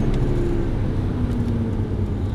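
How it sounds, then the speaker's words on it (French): An Aston Martin V8 Vantage accelerates in third gear, its engine a steady deep low drone heard from inside the car and holding at one level throughout. "Troisième. Et on accélère."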